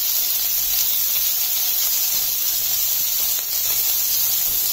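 Chopped onion and two dried red chillies frying in a pan, a loud, steady hiss and sizzle held evenly throughout with no talk.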